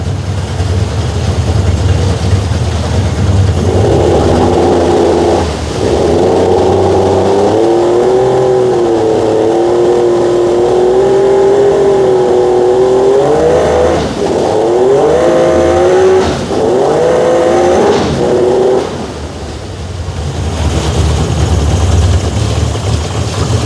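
A Tohatsu outboard boat engine runs loudly and steadily in a showroom, its droning pitch wavering up and down, with no talking over it.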